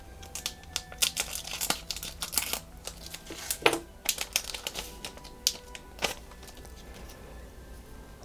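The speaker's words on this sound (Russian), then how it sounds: "Мы с вами откроем еще 8 бустеров и посмотрим на карты данного выпуска." Berserk trading card booster packs being torn open and the cards handled, a close run of crinkling foil, sharp tearing and clicking card flicks with uneven rhythm and no talking.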